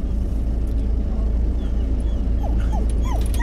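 A dog whimpers and gives a few short rising yips near the end, heard over a constant low vehicle-engine rumble.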